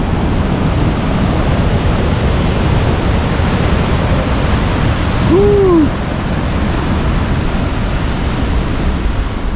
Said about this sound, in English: That's a pretty awesome waterfall.